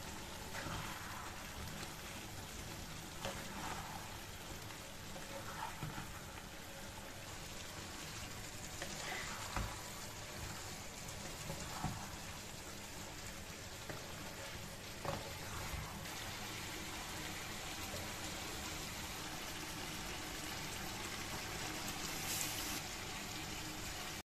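Bengali chicken curry pieces frying in oil with cumin, pepper and coriander powder, a soft continuous sizzle and bubbling with occasional faint pops and clicks, quiet and steady throughout.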